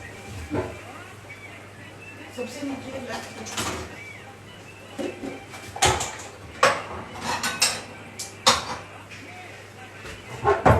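Dishes and bowls clattering in a kitchen during a search for a serving bowl, irregular sharp clinks, knocks and cupboard bangs close by, with a voice talking at times.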